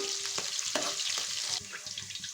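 Onion and green chili fry in hot oil in a pan, giving a close, steady sizzle with crackles and a few soft stirring scrapes, with no talk over it.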